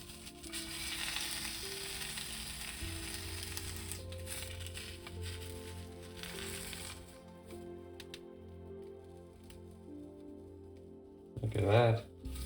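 Eggs frying in a pan at home, a steady close sizzle and crackle, with a brief louder clatter near the end.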